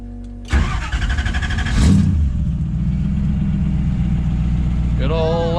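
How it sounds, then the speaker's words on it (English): A 1990 Lexus LS 400 engine cranks and fires, revs up sharply to a loud peak, then settles into a rough steady idle, close by, with a short whining sweep near the end. "The engine is out of 1990 LS 400."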